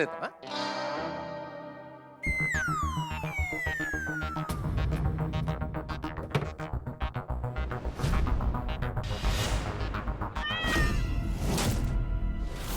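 A cat meows repeatedly with rising and falling cries, loud and close, over a busy background of music and effects.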